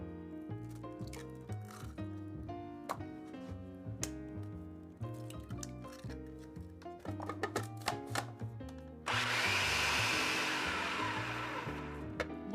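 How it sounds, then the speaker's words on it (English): A food processor whizzes two large eggs into white bean blondie batter, starting as a loud, steady whir after a stretch of background music and running continuously to the end. "To this, we're going to crack in 2 large eggs, and we'll let this whiz for a while to develop some air in there."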